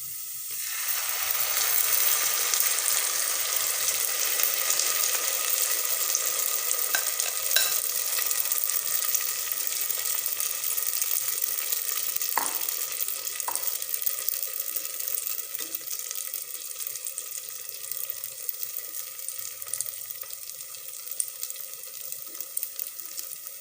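Steady, loud sizzling of appam batter in a hot pressure cooker, a dense hiss that continues throughout with a few faint clicks and no talking.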